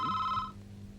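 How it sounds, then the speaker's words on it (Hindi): A telephone's electronic bell rings once for half a second, then cuts off, leaving a low background hum, fairly quiet and close. "फोन आया है, देखता हूँ।"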